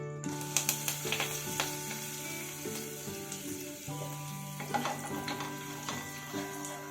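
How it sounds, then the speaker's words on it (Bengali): Black mustard seeds and curry leaves sizzling in hot mustard oil, with a soft continuous crackle and scattered sharp pops and spits, quiet and close, no speech. "ফোড়নে দিলাম কালো সর্ষে আর বেশ খানিকটা পরিমাণে কারি পাতা।"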